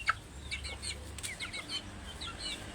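Several short chirpy calls from binabae native chickens, likely hens, over a steady low rumble outdoors, the calls coming in quick scattered bursts at moderate distance.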